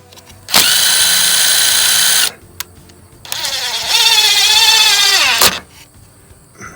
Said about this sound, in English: If you put a screw in and reverse it for a little bit, just a tiny bit, and then before you screw it in, it won't split the wood